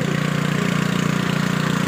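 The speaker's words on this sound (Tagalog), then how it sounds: "pinaandar na yung yung makina mga idol para chipingin na naman yung mga simento" A machine engine used for chipping cement runs steadily at idle, a loud continuous low throbbing drone close by, with no talking.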